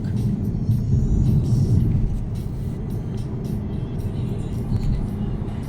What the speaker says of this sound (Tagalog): Oh, it's a big dump truck.